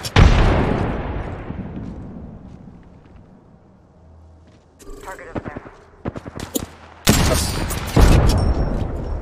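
Gunfire in a shooting video game, starting with a loud booming shot that rings out and decays, then a pause followed by bursts of sharp rapid shots, close and loud.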